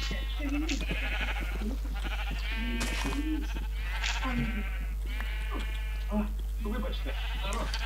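Minecraft sheep bleat repeatedly in short wavering calls, several overlapping across the stretch, heard clearly alongside players talking in the game.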